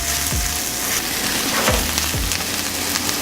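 A couple of chopped garlic cloves sizzle steadily in a hot pan, a close, continuous frying hiss with a few soft scrapes and knocks of stirring.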